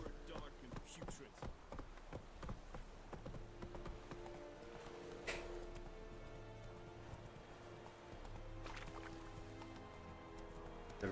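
Horse hooves clip-clop steadily on the ground in The Witcher 3: Wild Hunt, a repeating trot with a faint whinny, mixed under game ambience and occasional talk.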